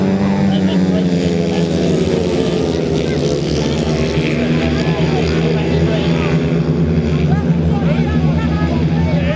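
500cc solo motorcycles racing at a grasstrack meeting, a dense, continuous roar of several engines revving together at a distance, with talk mixed in.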